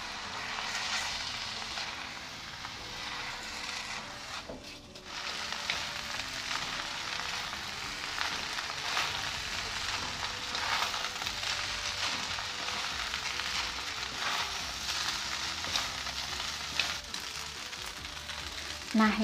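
Fried rice vermicelli with oyster sauce being stirred in a hot pan, a steady soft sizzle with occasional scraping, fairly quiet and continuous.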